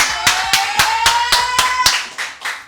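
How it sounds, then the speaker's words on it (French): A small group claps in a slow, evenly spaced rhythm, about ten sharp near claps in under three seconds, cheering on a contestant in a French food challenge show. "On l'applaudit."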